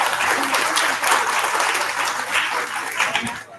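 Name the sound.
applause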